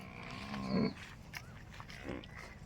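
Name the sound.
buffalo calf bellowing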